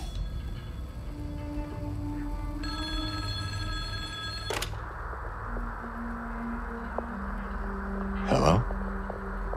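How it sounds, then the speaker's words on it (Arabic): A telephone rings in the Silent Hill 2 Remake, a repeated electronic bell ring heard clearly and fairly close over a low, dark ambient drone, with a couple of sharp impacts and no talk. "صوت جوال."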